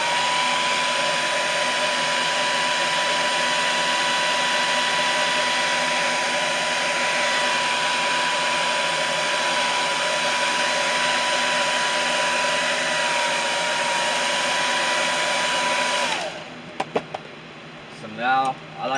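A heat gun or hair dryer blows steadily to heat-set paint on a fishing lure before clear coating, a loud continuous whir with a faint tone that cuts off near the end, followed by brief quiet handling.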